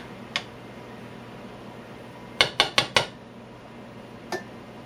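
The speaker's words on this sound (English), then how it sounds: "Put the lid on." Metal lid set onto a pot of boiling rice, a quick cluster of four bright clanks in a row, with single lighter clinks before and after over a quiet stovetop background.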